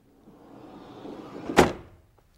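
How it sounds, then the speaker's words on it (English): A Roadtrek RV's wide sliding entry door rolls along its track with a rising rumble, then thuds shut with one firm clunk, followed by a faint click. "The wide sliding entry door"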